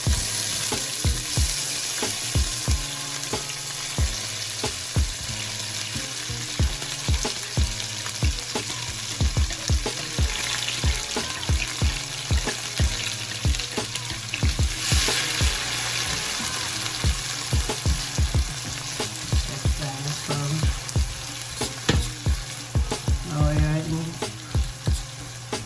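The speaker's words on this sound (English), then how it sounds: "now I'm going to fry up my brown seasoning." Brown seasoning with Scotch bonnet pepper and garlic fries in a pan for Jamaican tin mackerel, a steady loud sizzle with frequent spoon scrapes and clinks throughout, no talking.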